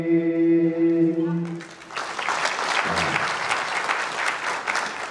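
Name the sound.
audience applauding at an award ceremony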